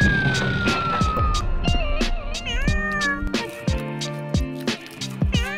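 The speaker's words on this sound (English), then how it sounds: "our cats get a little treat" Several cats meow in close succession, with a distinct siren-like wailing cry mixed in among the short calls; the meows are loud and near, with no talking.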